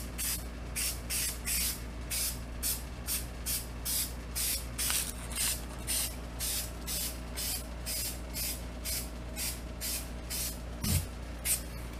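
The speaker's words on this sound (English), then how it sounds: "we'll spray this face and we'll get some adhesive on the felt" Steady hissing spray of adhesive from an aerosol can onto felt in short repeated bursts, close and continuous over a low background hum.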